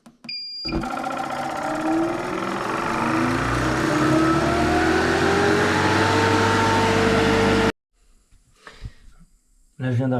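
A refrigerant recovery station pulls fluid from a SOFATH heat pump, a loud steady motor drone with rising whining tones that runs for several seconds, then cuts off abruptly into near silence with faint handling noises.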